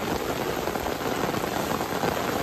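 Heavy rain pouring outdoors by a pool where fish are being caught, a dense, even wash of close, loud drops with no pauses.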